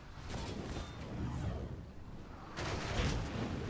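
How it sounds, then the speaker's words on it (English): Howitzer shots come in during a Napoleon Total War battle, with distant booming artillery impacts and rumbling blasts heard in two muffled waves over a continuous low battlefield din. "And we got lots of howitzer shots coming in."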